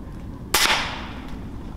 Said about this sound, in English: the noise from the gun is actually quite quiet, but the impact on the squirrel there was really loud